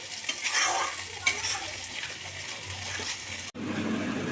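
Spice masala being stir-fried in a pan with a little water until the oil separates, a close steady sizzle and stirring scrape, briefly cut off near the end, with no talk.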